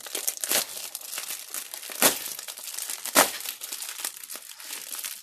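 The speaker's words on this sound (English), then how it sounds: "Sorry about the crinkles." Plastic wrapping of a delivered package for a diamond painting crinkles and crackles up close as it is opened, in irregular bursts with a few sharper rustles.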